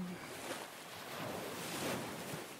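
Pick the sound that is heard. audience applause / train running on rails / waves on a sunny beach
waves on a sunny beach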